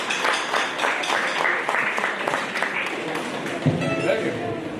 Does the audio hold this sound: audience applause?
yes